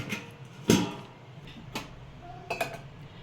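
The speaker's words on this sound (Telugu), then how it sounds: "ఇవి కూడా కొత్తిమీర చల్లుకుందాం మనం మూత పెట్టేసుకుందాం" A lid set onto a cooking pot of mutton gongura biryani made with coconut milk, giving a sharp metallic clank followed by a few lighter clinks and taps, close and fairly quiet.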